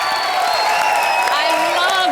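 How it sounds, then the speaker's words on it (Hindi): Studio audience applause and cheering on a comedy show, a steady, loud crowd roar with whoops, with voices talking over it throughout. "ग्रेट ग्रैंड मस्ती की सुपर हिट टीम के लिए जोरदार तालियां"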